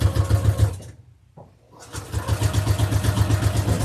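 A sewing machine stitches a seam down the side of a fabric gift bag made from scraps, its needle chattering in a fast steady rhythm that pauses briefly before resuming, loud and close.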